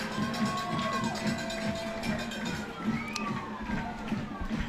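Crowd mics at a high school football game between Guthrie and Shawnee pick up a steady, distant murmur of the stadium crowd, with faint whistles and tones drifting through.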